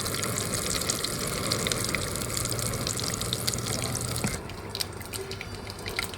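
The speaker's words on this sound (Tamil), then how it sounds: "கடுகு பொரிஞ்சிடுச்சு." Mustard seeds and cumin splutter in hot oil for a mushroom kara masala, a dense, steady crackling hiss up close that drops to a quieter sizzle with scattered pops toward the end.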